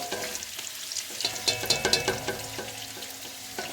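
Whole garam masala spices fry in hot oil for pulao, a steady crackling sizzle with a few louder pops and scraping stirs, close and clear with no voices.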